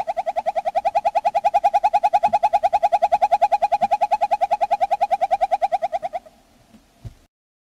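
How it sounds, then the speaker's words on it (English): Northern hawk owl song played back as a recording: a long, fast, even trill of rapid repeated hoots running steadily for about six seconds, then breaking off into quiet, with a faint soft note afterward. "So I'm gonna play the northern hawk owl song for you."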